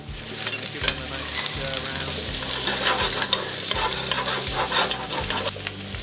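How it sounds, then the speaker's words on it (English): Red onion, sweet potato and carrot fry in about 25 ml of oil, making a dense, continuous sizzle with stirring and crackle up close. "Just going to fry them off in a little bit of oil, just about 25 mils."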